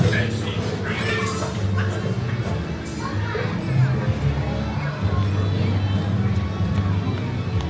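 A recorded cat meow plays from an interactive piano exhibit at a theme park, heard amid a busy crowd with children playing and people talking nearby.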